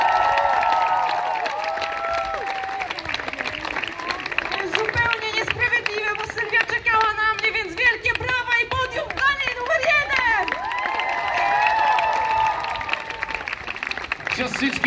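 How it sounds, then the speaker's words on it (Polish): A crowd applauds and cheers at the finish of a festival fun run in Kokotek, Poland, honoring a nun who placed second; sustained clapping fills the whole stretch, with an announcer's voice and chatter over it. "Te brawa dla niej i też ją zapraszamy"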